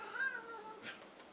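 A cat gives a single short, faint meow that bends down in pitch, heard alone and fairly near in a quiet indoor room.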